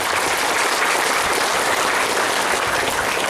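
Students at an Islamic boarding school applaud loudly during a motivational talk, a thick, continuous roar of many hands clapping at once that stays full and steady throughout, with no voices standing out.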